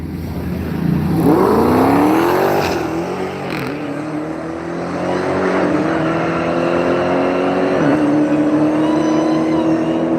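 Race cars roar around the track at Las Vegas Motor Speedway, engines rising and shifting pitch as they accelerate and pass, a loud continuous drone that surges and fades across the whole stretch.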